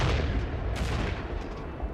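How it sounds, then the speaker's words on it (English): Airstrikes on Baghdad in a news report come through as dense, heavy low rumbling and booming that rolls on without a break, with no speech over it. "Baghdad tonight, the 19th evening of airstrikes."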